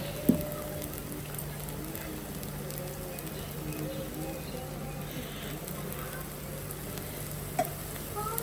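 Ragi flour bun dosa fries in oil on a pan with a steady, close sizzle that continues evenly throughout, broken by a couple of faint clicks.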